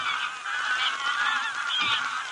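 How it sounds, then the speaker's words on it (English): Geese honking repeatedly in a close, clear flock chorus, overlapping nasal calls with no voices over them. "I was watching the geese."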